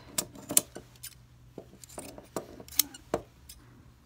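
Scissors snipping the end of a sewn fabric seam on a school uniform jacket, a scattered run of sharp, brief metallic clicks and cuts close by, fairly quiet, with no talk.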